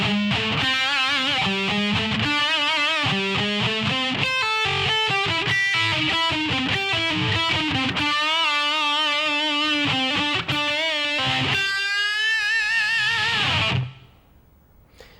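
Electric guitar playing a fast lick, bright distorted notes in quick runs with bends and slides, loud and alone, ending in a held note that cuts off.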